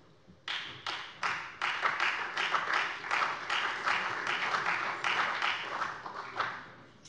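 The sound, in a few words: applause in the Hessian state parliament plenary session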